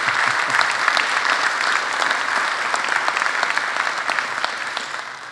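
A town meeting audience claps together in a dense, sustained round of applause that stays loud for several seconds before easing off slightly at the end.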